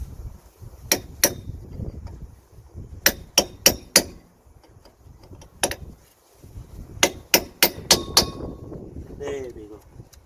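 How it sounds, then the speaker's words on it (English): A hammer strikes a chisel to stake the axle nut during a Suzuki Wagon R rear wheel bearing replacement, sharp metallic blows in quick clusters of two to four, close and loud, with a voice talking between them. "So for that we're going to use a chisel and a hammer."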